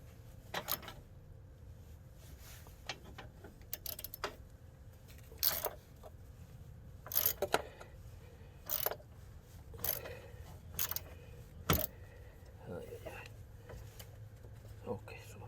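A ratchet with a deep socket works on the battery hardware of a 2013 Toyota Sienna, giving scattered sharp clicks and metallic ticks close by, with some light clinking between them.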